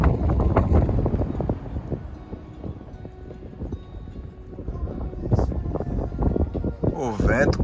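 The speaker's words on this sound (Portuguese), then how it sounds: "O vento continua forte." Strong wind at Praia da Ferradura in Búzios buffets the microphone in a continuous low roar with gusty surges, while someone talks over it.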